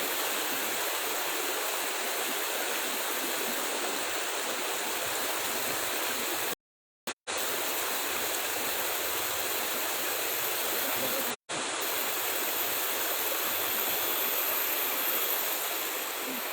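River water rushes in a steady, loud broadband roar near Semeru volcano, continuous apart from two brief dropouts, with no voices standing out.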